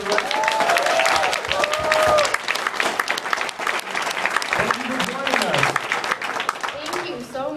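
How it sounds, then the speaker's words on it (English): A crowd gives a guest coming on stage a loud round of applause, with scattered cheers and shouted voices mixed into the clapping before it eases off. "Round of applause. Everybody."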